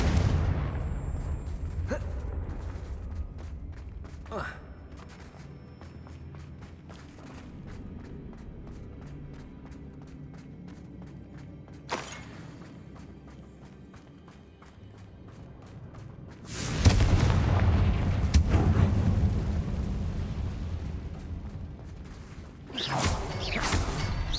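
A Confringo fire spell blasts spider webs in the video game Hogwarts Legacy, a sudden loud burst and rumble rising out of steady game ambience, followed by another sharp burst near the end.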